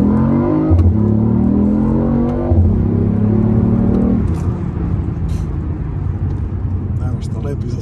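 A BMW i8 hybrid sports car's engine revs with a steady, rising drone that dips and climbs again, heard from inside the car; a voice talks over it throughout.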